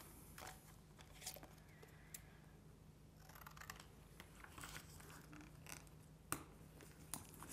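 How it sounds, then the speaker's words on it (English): Scissors snip through neon cardstock for a scrapbook layout, a few faint, quiet cuts and crisp rustles scattered over low room hum, with no talking. "I'm going to cut that down a little."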